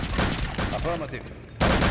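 Gunfire rings out in Return to Castle Wolfenstein, a dense burst of shots fading into a brief voiced line, then a loud renewed volley at the end.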